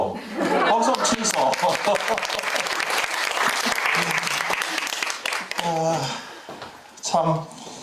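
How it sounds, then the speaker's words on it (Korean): Parents in a school assembly at a parents' meeting applaud loudly, a thick burst of clapping with chuckles and laughter mixed in, then fading as a speaker talks and the clapping briefly flares again. "박수 치소."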